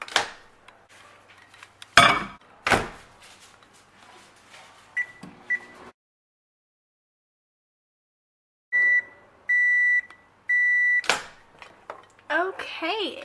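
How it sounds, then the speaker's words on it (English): A microwave oven holding a sponge submerged in water hums briefly, then gives a series of loud electronic beeps, short tones repeated in evenly spaced groups amid clatter and handling noises, with a stretch of near silence between them. "I'm going to put this in my microwave for 1 minute."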